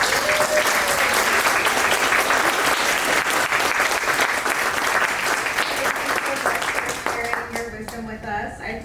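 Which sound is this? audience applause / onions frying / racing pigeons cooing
audience applause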